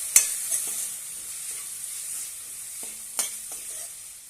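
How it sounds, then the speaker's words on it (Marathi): Boiled chickpeas sautéing in a pan for a yogurt chickpea dish. A steady, soft sizzle runs throughout, with a couple of sharp spatula scrapes and light stirring taps. "छानपैकी आपण आता हे परतून घेऊया"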